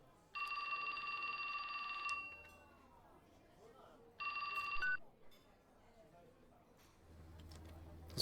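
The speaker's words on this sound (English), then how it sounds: "His phone rang." Telephone ringing in two bursts of a bright electronic ring, a long one then a shorter one after a pause, fairly loud over a background of murmur and light noise.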